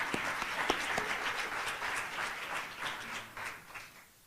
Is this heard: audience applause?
yes